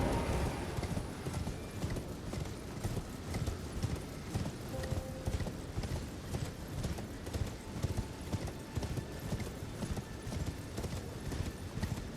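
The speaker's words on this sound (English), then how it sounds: "Oh, I didn't even know I could ride my horse." Horse hooves gallop in a fast, continuous rhythm in the video game Elden Ring, loud and close, with a brief whinny in the mix.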